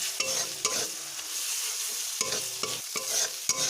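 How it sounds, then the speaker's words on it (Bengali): Spices and tomatoes being stirred in a hot frying pan while cooking a Bengali parshe fish and eggplant dish; a steady sizzle runs throughout, punctuated by several sharp scrapes and clinks of the spoon against the pan. "এবারে আমি নেড়ে দেবো।"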